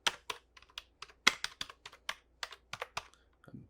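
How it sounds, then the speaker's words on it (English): Stock keyboard of a Dell Inspiron laptop being typed on, a quiet, close series of irregular plasticky key taps with brief pauses between bursts, heard alone. "let's do a little typing test"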